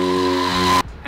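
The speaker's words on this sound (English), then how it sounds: "the basic burnout, it's actually the first step before you do the rolling burnouts" Motorcycle burnout with a loud, steady tire squeal and revving engine howl close by for most of the moment, cutting off abruptly near the end.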